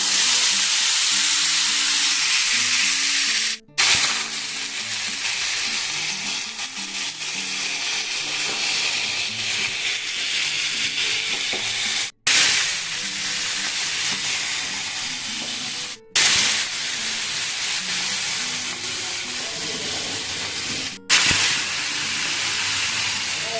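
Potato, pumpkin and green chilli with bay leaves sizzle steadily in hot oil in a pan, a loud continuous frying hiss broken by a few brief pauses.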